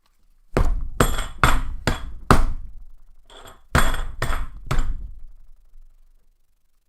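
A hammer knocks on a Huzzle Cast Infinity metal puzzle with sharp, heavy thunks, two close bursts of about four to five blows each and a short pause between, loud and close with no talking.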